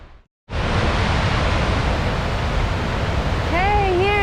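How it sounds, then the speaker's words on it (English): Roar of a flooded waterfall at the top of Lost Creek Falls, Tennessee: a loud, steady, close rushing wash that starts abruptly after a brief silence. A short tonal warbling sound rises over it near the end. "here's the very top of the falls, top of Lost Creek Falls"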